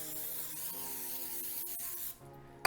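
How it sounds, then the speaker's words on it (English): Nonstick cooking spray hissing onto a baking sheet, a steady broadband spray lasting about two seconds and close by, ending with a brief clatter. "I'm gonna spray the baking sheet."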